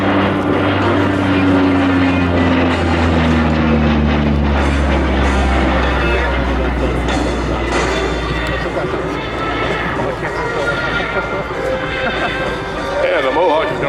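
A Grumman OV-1 Mohawk turboprop flying at an airshow, a loud droning engine and propeller roar with a falling pitch as it passes, under continuous announcer commentary.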